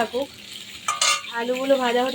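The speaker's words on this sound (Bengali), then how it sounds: "সব কটা আলু দিয়ে দিয়েছি, এবার আলুগুলোকে ভালো করে ভেজে নেব" Potatoes fry in a pan with oil, giving a soft sizzle. A brief clatter of a utensil stirring or scraping the pan cuts in about midway. A muffled voice can be heard faintly.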